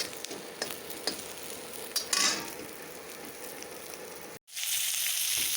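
Ridge gourd fritters frying in hot oil, a steady close sizzle with occasional scraping stirs, briefly cut to silence near the end before the frying hiss returns.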